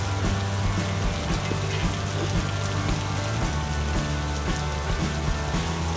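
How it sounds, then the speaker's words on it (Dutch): Steady rain falls outdoors with a constant dense patter of drops on surfaces, loud and continuous throughout, with no voices. "Oh ja, en even niet vergeten dat ik nog even wilde zeggen dat het regent, hè?"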